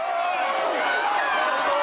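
Dense wrestling arena crowd roaring and baying in a steady, loud wall of voices with no break, close and continuous throughout.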